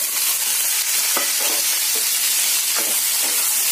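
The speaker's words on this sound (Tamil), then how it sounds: "இப்போதுல நம்ம பிரண்டையை போட்டு வதக்கிக்கலாம்." Veld grape stems sauté in hot sesame oil for a chutney, giving a loud, close, continuous hissing sizzle punctuated by several scraping stirs.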